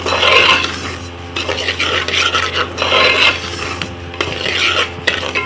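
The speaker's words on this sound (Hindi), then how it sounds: "इसको आपने धीमी धीमी आंच पर इस घी में अच्छी तरह से भूनना है" Daliya (cracked wheat) roasting in two spoons of ghee over low heat, stirred steadily with a spoon, giving a continuous close scraping and rasping rhythm with faint sizzle and pan clinks.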